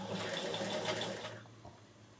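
Bernina 840 sewing machine stitching a bar tack, a steady close rapid whirring chatter of the needle for over a second before stopping, then a faint click in a quiet room.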